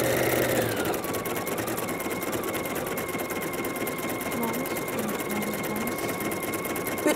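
An embroidery sewing machine stitches a decoration on a blouse, a steady, rapid mechanical buzzing hum holding constant and close throughout, with a slight shift in pitch near the start.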